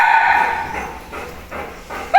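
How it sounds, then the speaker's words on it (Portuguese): Several excited household dogs bark and yip in quick bursts, close and loud, with whimpering between barks as they sense an outing after nearly a month indoors. "a cachorrada percebendo que vai passear depois de quase um mês sem sair. Estão agitados."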